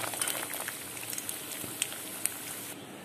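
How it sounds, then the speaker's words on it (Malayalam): Chopped coconut fries in hot coconut oil in a pan, a soft, steady sizzle with light crackles and a couple of sharp pops, fairly quiet and close, with no talking. "വെളിച്ചെണ്ണ ഒഴിച്ച് ചൂടാവുമ്പോൾ നാളികേരം കൊത്തിയതൊന്ന്"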